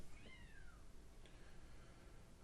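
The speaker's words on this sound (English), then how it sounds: "That's the cat's getting nutty out there." A cat meows outdoors, heard faintly from a distance: one drawn-out, falling meow, then a shorter second cry over a low background rumble.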